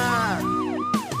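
A fire engine siren wails loud and close in repeated rising and falling sweeps, cut short by a brief break near the end.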